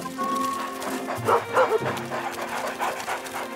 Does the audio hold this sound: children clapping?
no